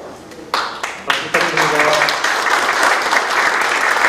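Applause breaks out at a 2022 Icheon city government award ceremony, a mayor's visit to Changjeon-dong, with a room of people clapping steadily and densely after a few sharp early claps, while a voice speaks briefly over it.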